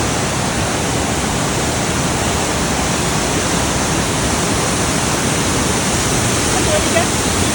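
A waterfall rushing loudly and steadily close by, a dense unbroken roar of falling water filling the whole span, with a voice speaking faintly beneath it.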